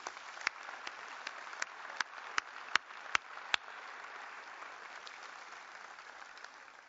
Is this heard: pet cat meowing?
no